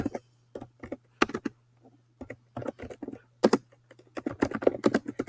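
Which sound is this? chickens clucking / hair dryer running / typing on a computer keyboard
typing on a computer keyboard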